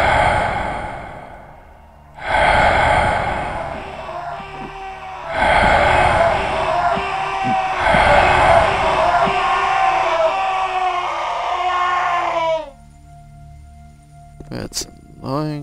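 Zombie screams from the video game Gothic: long, loud, groaning howls repeated in several drawn-out bursts with short gaps, rough and wailing, ending in a falling trail, followed by brief faint game noises.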